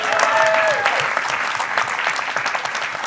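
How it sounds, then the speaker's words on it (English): An audience at a cybersecurity conference speed debate applauds for several seconds, the clapping dense and steady at first, then thinning slightly toward the end; a faint brief tone sounds early on. "Let's have a round of applause."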